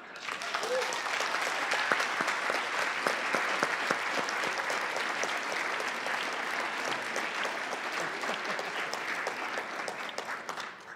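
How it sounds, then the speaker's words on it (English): Sustained audience applause at a lecture by Fr. Greg Boyle, a broad, even wash of many hands clapping that holds steady and loud throughout. "Give them one last round of applause."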